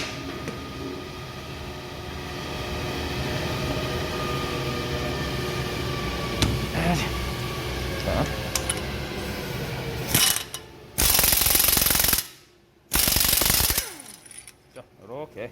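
A ratchet or impact tool with a 32mm socket loosening a car bolt nut during a wheel hub or steering repair. First comes a long stretch of mechanical clicking and workshop noise. Then come two loud bursts of rapid hammering near the end.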